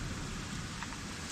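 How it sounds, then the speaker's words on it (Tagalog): Steady rain falls in a soft, continuous hiss at an outdoor cooking spot, evenly textured and fairly faint throughout with no voices over it. "Ulan nga."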